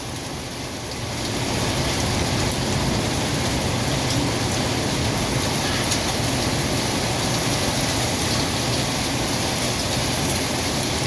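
Heavy thunderstorm rain pours down as a dense, loud, continuous hiss that swells in after a quieter first second and holds steady, with no talk.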